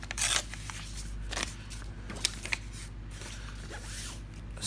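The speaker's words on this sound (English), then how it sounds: "you can rip them" Scrap paper pieces torn by hand for a mini money envelope journal, a few short crisp rips with quieter rustling between them, close and alone over a steady low hum.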